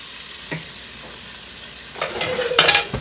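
Butter and flour roux being stirred in a pan to cook out the raw flour: a soft sizzle, then louder scraping stir strokes building toward the end.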